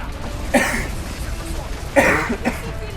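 A person coughs twice at close range, two harsh separate bursts a little over a second apart, with no speech around them.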